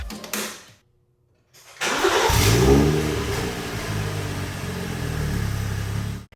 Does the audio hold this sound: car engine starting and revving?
yes